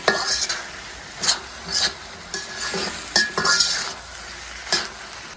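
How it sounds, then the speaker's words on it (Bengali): Chicken sizzles in a pan as a utensil stirs it with salt, repeated scraping strokes and clinks over steady frying, close and moderately loud, without speech. "লবণ দিয়ে খুব ভালোভাবে মিশিয়ে নিচ্ছি।"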